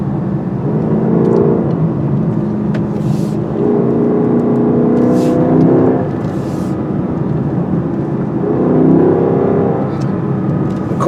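A 2019 Lexus LC500 V8 driving on curving mountain roads, its loud exhaust droning and rising in several swells of revving as the car accelerates, steady and close throughout.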